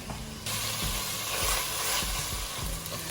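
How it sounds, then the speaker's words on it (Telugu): Onions and green chillies frying in a pan for mutton paya, a steady loud close sizzle with a sudden surge as they hit the oil, and soft clinks of stirring underneath. "ఉల్లిపాయలు, పచ్చిమిరపకాయలు మంచిగా వేగాయి బ్రౌనిష్గా."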